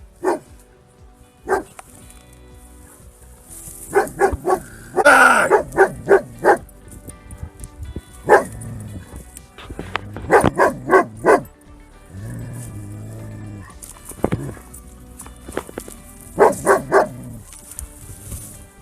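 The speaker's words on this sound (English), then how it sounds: "the dog does everything possible to protect its owner and scare the cougar" Labrador named Timber barking at a cougar in the Canadian wilderness, bursts of loud, close barks in clustered volleys separated by pauses, with whimpers and yips between them.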